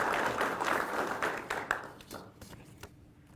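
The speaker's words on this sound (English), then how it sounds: "If we can give a round of applause for all our families and friends at home" A graduation audience at a law enforcement academy ceremony gives a round of applause for families and friends, a dense wash of clapping that fades out over a few seconds.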